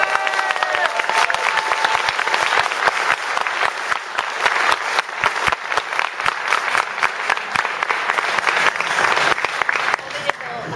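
Strong audience applause fills a convention hall during a Sword Art Online panel, loud dense clapping with sharp individual claps standing out, sustained for the whole stretch.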